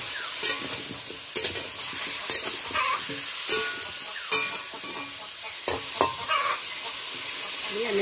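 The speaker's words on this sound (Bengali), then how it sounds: "মশলাটাও কষা হবে, আলুটাও ভাজা হয়ে যাবে" Potatoes fry with spices in a pan for a thin grass carp curry with drumsticks in a village kitchen. A steady close sizzle runs throughout, broken by spatula scrapes roughly every second.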